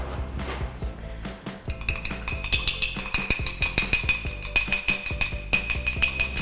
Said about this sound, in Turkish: İyice karıştırmam gerekiyor. Bir çatal yardımıyla karıştıracağım şimdi.